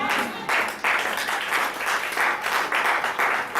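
A church congregation applauding in praise of the Lord: steady, dense clapping from many hands throughout, fairly loud and continuous.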